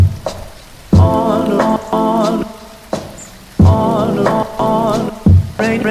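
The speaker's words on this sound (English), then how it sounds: "on a rainy day." Rain falls steadily in woodland on a wet day, a dense hiss of drops with louder patches that swell and ease in several waves, with no voices.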